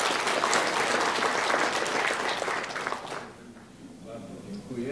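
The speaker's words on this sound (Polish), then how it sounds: "Wielkie brawa." Audience applause at a Polish astronautics society talk welcomes the society's president from the Military University of Technology, loud dense clapping filling the first three seconds and then fading into a quieter room.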